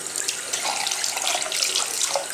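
Water runs steadily from a tap into a sink as a child splashes it about, a bright continuous hiss with small irregular spatters, close and fairly loud, with no talking.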